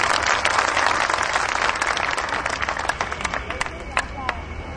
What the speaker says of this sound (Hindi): जरा तालियां बजा दें जोरदार